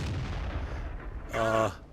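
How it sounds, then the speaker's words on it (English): Artillery fire in World of Tanks: a muffled boom and rumbling battle noise, followed near the end by a short, bright tonal burst from the game. "And the artillery has zeroed in, but he's still not able to hit."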